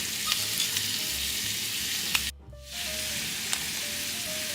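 Onion and garlic frying in a pan beside ground beef, a steady loud sizzle with a brief dip partway through, then resuming.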